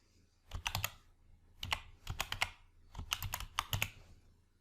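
Keys clatter on a computer keyboard in three quick bursts of rapid, close taps separated by short pauses, with no talking.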